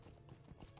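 Quick, rhythmic horse hooves clip-clop in a brief burst over a dense, muffled background in the video game The Lord of the Rings Online: Shadows of Angmar.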